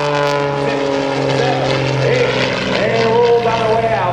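A propeller aerobatic plane flies a hammerhead turn at the 2010 Joint Services Open House air show. Its engine gives a loud, continuous droning roar that bends in pitch partway through as the plane manoeuvres.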